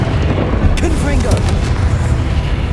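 Confringo spell explosions in Hogwarts Legacy combat, a loud, dense rumble of booming blasts with a sharp burst partway through, heavy low end throughout, and voices and game effects mixed in.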